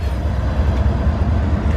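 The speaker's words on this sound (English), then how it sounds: "Well, that's a short train." A steady low rumble of a short train rolling past close by near a bridge in the American Midwest, continuous and loud with no voices.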